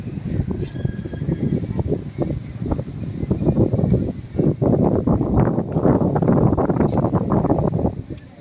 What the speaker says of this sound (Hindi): मौसम थोड़ा सुहावना है, हवा चल रहा है।